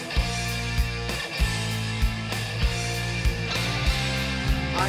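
Loud podcast intro music driven by heavy drums, with regular thumping hits about every half second over a dense, sustained band of instruments, playing alone without any voice.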